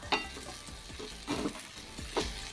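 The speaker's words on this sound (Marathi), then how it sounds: "तर थोडंसं आपण परतून घेऊया. जास्त नाही परतायचं, आपण थोडंसं हलक्या हाताने परतून घेऊया." Crumbled leftover chapati being sautéed in a pan, giving a soft continuous sizzle with a few scraping stirs of a spatula, close and quiet, with no talking.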